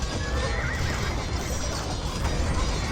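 Cavalier horses in Age of Empires 2 neigh and whinny over a steady clatter of hooves, loud and continuous with battle noise filling the background.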